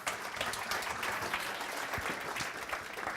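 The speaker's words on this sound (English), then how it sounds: "Round of applause" Dense, even audience applause closes a corporate innovation team presentation, a continuous wash of many hands clapping at moderate distance for several seconds.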